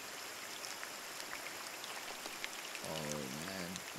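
Steady flowing water fills a dark in-game landscape in Scanner Sombre, a soft continuous rush with faint drips, joined briefly near the end by a short low voice.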